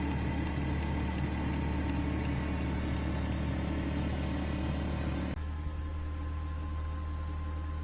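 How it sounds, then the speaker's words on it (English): A generator aboard a boat on a winter morning runs as a steady, loud mechanical hum with a fixed low drone, then the tone drops and the high-frequency whine thins abruptly partway through, no talking. "My apologies to the world for the generator noise"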